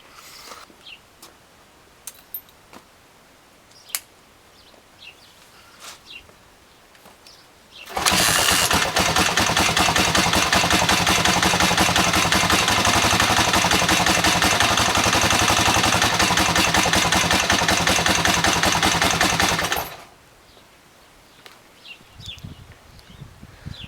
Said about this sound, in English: I'll kick it over and see if it starts.